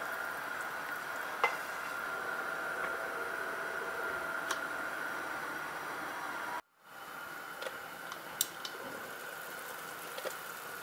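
Food cooking in a covered pot after stirring, a faint steady bubbling sizzle with occasional small ticks and pops, broken by one brief cut partway through.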